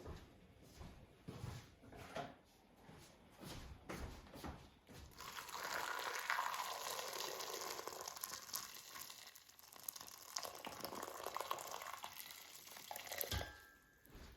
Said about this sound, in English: Let's just pour the hot water into this tomato bowl.